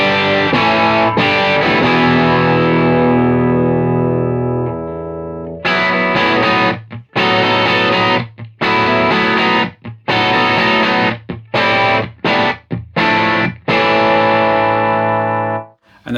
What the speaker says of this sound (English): the second pedal in the loop is the Origin Effects Magma 57, which is basically a magnetone in a box